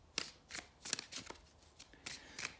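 A deck of cards being shuffled up close in a quiet room, a run of soft riffling and sliding bursts in an uneven rhythm, with no talking.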